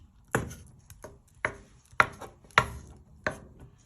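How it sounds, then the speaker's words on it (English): Butter is broken into pieces for a rocky road cake, heard as about seven sharp, separate knocks or taps at an uneven pace, close and clear against quiet, with no talking. "So what you're doing is just breaking the butter."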